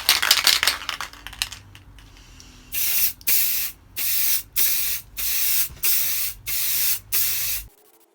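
Clear coat sprayed from an aerosol can onto a hydro-dipped Spektrum DX8 RC transmitter, heard as six or seven loud, close bursts of hiss in a steady rhythm, each about half a second, after some earlier handling noise.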